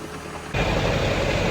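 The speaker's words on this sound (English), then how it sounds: "As you see, tractor's rolling pretty good." A tractor running while dumping a grain truck during wheat harvest, a loud steady engine drone that kicks up sharply partway in and holds, heard alone and close.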